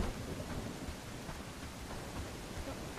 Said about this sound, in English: why am I standing in the rain?